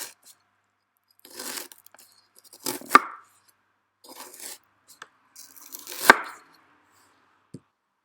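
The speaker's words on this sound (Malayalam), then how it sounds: "ബാക്കിയുള്ള പീസും കൂടി നമുക്ക് ക്യൂബ്സ് ആയിട്ട് കട്ട് ചെയ്തെടുക്കാം." A knife chops fish into cubes on a board for Kerala fish pickle, a handful of separate close cuts with sharp thuds and soft scraping between pauses.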